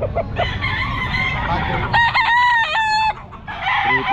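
A Boston Roundhead rooster at a Philippine pet market crows once, loud and close, amid clucking hens and general market chatter, with people talking nearby.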